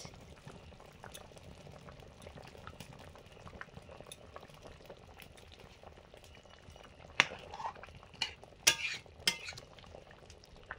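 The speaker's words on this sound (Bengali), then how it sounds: "ঝোল ফুটে গেছে, মাছ দিয়ে দিচ্ছি, কই মাছ।" Curry broth with koi fish bubbles at a low, steady simmer, a faint gentle burble that runs throughout, with a few louder clinks and splashes from stirring or the fish going in toward the end.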